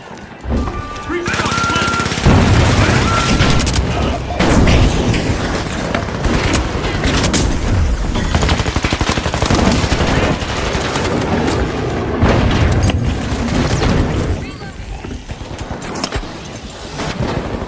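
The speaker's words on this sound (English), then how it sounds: "Sonar grenade out!" Heavy continuous gunfire and bursts in The Finals with a sonar grenade in play, loud sustained automatic fire, booms and game sounds throughout, with speech mixed in.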